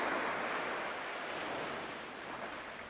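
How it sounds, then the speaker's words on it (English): Ocean waves washing onto a sandy beach, a soft, continuous hiss of surf that swells and slowly fades, faint and steady with no voices. "the soothing sounds and sights of the waves all at once."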